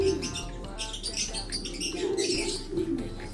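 A racing pigeon from a line of double lap winners coos close by in soft, repeated low calls over faint background chirps.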